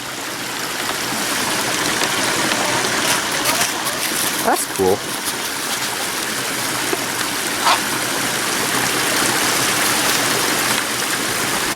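A small, puny waterfall on a woodland stream during a late-February nature walk, its steady broadband rush of flowing water continuous and close throughout, with a brief spoken remark partway through.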